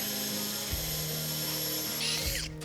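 A power drill bores out mortise waste in a timber post while framing a duck run, a steady high whine with a brief dip in pitch midway and a rising strain near the end before it cuts off.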